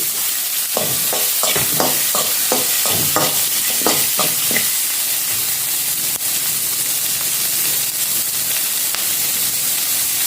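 Cumin, chilli and black pepper fry loudly in hot oil over a high flame for a village-style fish curry, with a string of quick stirring clicks early on and then an unbroken hissing sizzle.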